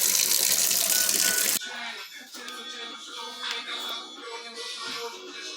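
Cold tap water gushes loudly for a moment while rinsing overcooked pasta in a sink, then drops to a quieter, uneven trickle with light clattering and handling noises. No one speaks.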